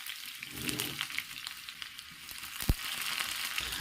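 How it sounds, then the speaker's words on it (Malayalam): Chopped shallots and curry leaves frying in hot coconut oil with mustard seeds, a steady close sizzle with faint crackles and one sharp tap of a utensil. "3-4 ചുവന്നുള്ളി അരിഞ്ഞതും കരിയാപ്പിലയും ഇട്ടൊന്ന് മൂപ്പിച്ചെടുക്കാം."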